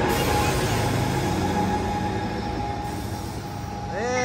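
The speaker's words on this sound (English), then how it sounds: "Man, look at that train." An Amtrak Capital Corridor passenger train, led by an SC44 Charger locomotive, rolls past close by at Santa Clara station with a loud, steady rumble, and its wheels squeal briefly near the end.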